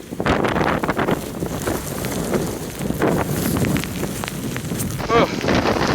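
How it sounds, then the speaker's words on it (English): Strong 80 mph wind roars and buffets the microphone in loud, continuous gusts on a hike, with rustling and rain noise throughout. "Absolutely crazy wind!"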